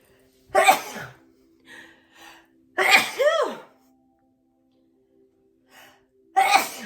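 A person sneezes sharply three times, close and loud, with brief gasps and breaths in between and quiet pauses around each burst.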